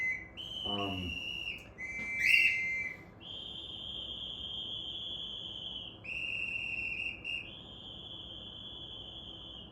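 Random whistle sound effects play in sequence: a short rising whistle, a warbling burst, then long steady high-pitched tones that shift pitch a few times, clear and alone with no talking.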